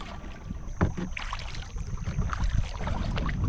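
A kayak being paddled on the Lower Wisconsin River, with irregular splashes and water swishes from the paddle strokes over steady breeze and wind noise on the microphone.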